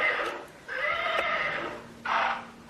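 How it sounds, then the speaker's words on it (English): A horse neighs close by, a loud whinny that rises and wavers, followed by a second shorter burst after a brief pause. "Is that your horse?"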